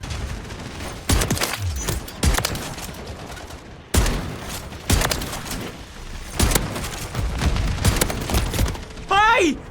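Shotgun hip-fire blasts in Call of Duty: Modern Warfare III fire as loud separate booms spaced a second or two apart over several seconds, with game effects and a brief voice near the end.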